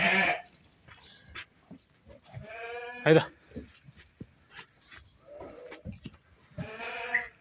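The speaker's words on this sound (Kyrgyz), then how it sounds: "Мындай ургачы козулар сатылат." Female lambs bleat repeatedly in short, wavering cries, some close and loud, others fainter, and a person's voice is briefly heard between them.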